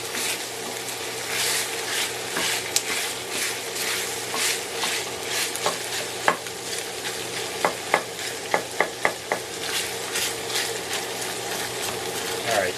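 Sausage, peppers and onions sizzle steadily in a pot while a utensil stirs and breaks them up, giving off repeated sharp scraping knocks against the pot. The sound is close and no one speaks.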